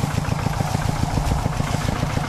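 A Lokiten farm tractor engine runs steadily on a rice farm field in Laos, a loud close chugging idle with a regular low pulsing rhythm and no voices.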